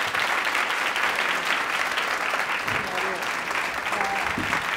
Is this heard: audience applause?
yes